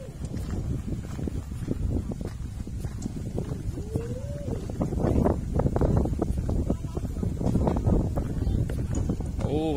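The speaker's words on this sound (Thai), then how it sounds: "วันนี้มีลมแรงเนาะ" Strong wind gusting steadily outdoors while equipment is loaded and carried, a constant loud rumble with clattering knocks and movement throughout, a voice briefly heard over it.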